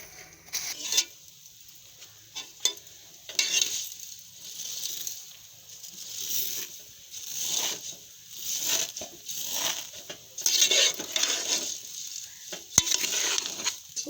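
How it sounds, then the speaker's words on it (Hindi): Broken vermicelli (sewaiyan) is roasted dry in a pan, heard as repeated close scraping and stirring strokes with a light crackling sizzle, rising and falling in rhythmic bursts with no one talking. "इसको अच्छे से मिक्स करेंगे और 3 से 4 मिनट इसको हम भुनेंगे"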